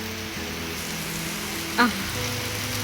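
Steady rain patters and hisses throughout, with one brief sharp squeak rising above it near the middle.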